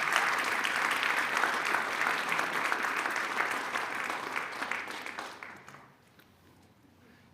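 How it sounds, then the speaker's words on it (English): An audience applauds seven Eagle Scouts at a Court of Honor ceremony. The clapping stays full and sustained for about five seconds, then thins out and fades to near quiet. "Can I have one more applause for the 7 scouts as they take their seats?"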